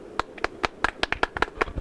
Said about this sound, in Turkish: Alkışlarla.